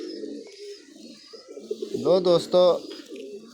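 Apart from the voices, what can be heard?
pigeons cooing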